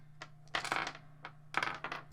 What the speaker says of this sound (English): I hope you enjoy the sound of dice.